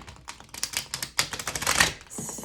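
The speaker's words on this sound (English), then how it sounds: "I will do my best to shuffle everything appropriately" A deck of tarot cards being shuffled gives a quick run of crisp, dense flicks and riffles close up, rising to a busier patter before a final soft slap.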